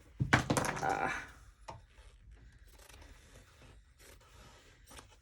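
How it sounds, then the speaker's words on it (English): Scissors snipping excess fabric while sewing a zipper and card-slot pocket, a burst of crisp close cuts followed by a few fainter snips and handling sounds in a quiet room. "So let me cut off this extra material at the end here."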